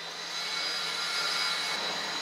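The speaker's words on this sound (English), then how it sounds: "It sounds like they're sawing off the whole entire apartment or something." Renovation sawing next door to an apartment, a steady loud broadband grinding whine with a sharp high tone running throughout, continuous without breaks.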